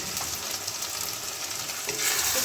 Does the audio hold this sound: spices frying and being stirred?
yes